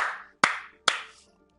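Three sharp, close hand claps, evenly spaced about half a second apart, each ringing briefly in a small room.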